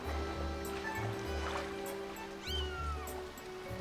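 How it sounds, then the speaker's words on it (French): A cat meows a few times in the Zelda Skyward Sword video game, over steady low rumbling water and ambient game sounds. "Qu'est-ce que tu veux le chat?"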